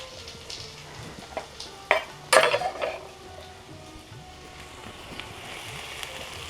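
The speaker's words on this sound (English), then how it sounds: "Oh, you hear that sizzle?" Chopped onions hitting a hot pan of toasted spices for chicken saag, sharp clatters and stirring scrapes of utensil on pan over a steady low sizzle that continues after the additions.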